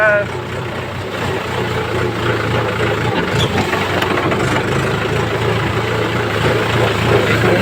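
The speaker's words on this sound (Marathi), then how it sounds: "आम्ही ट्रॅक्टर घेऊन आलेलो आहे" A tractor engine idles and rumbles with a low, steady hum, while people talk over it near a flowing river.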